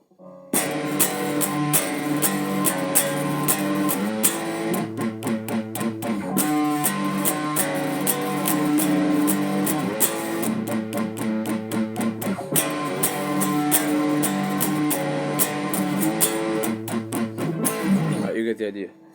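Distorted electric guitar plays the bridge riff of a rock song as a steady, loud run of chords and power-chord intervals, ending in a brief trailing stop.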